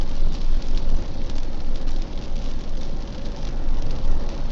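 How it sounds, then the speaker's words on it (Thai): Steady, dense rain noise roars continuously, like heavy rainfall drumming on a moving car on a wet road, with no voices. "ฝนตกด้วยครับวันนี้"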